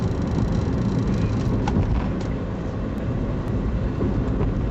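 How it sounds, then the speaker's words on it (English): A car crawling through rush hour traffic, a steady low road and cabin rumble that stays even and fairly quiet for the whole stretch, with no voices. "this is the dreaded rush hour traffic that I did not want to hit"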